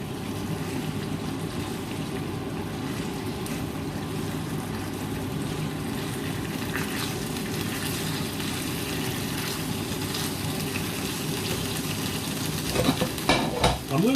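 Food sizzling steadily in a hot pan as it is turned over on the stove, a constant close frying hiss with a few scraping clatters near the end.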